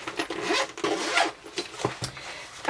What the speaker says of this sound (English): And then there is another zipper.